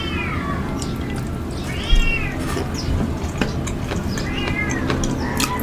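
A rescued cat shut in a cage cries out, giving several drawn-out, wavering meows close by with short pauses between them, over a faint background hiss and a few small clicks.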